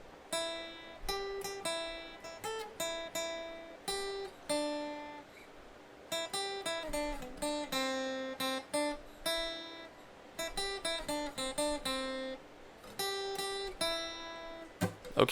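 Acoustic guitar plays a chord progression, picked notes ringing out in short phrases with brief pauses between, clear and close with no talking.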